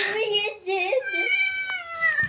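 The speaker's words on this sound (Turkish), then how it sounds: "Arkadaşlar, Ayşe kedimi arkadaşlar kediye bakın ya" A pet cat meows in a drawn-out, wavering call lasting about two seconds, fairly close and clear, with a few shorter rising cries before it; no talk is heard over it.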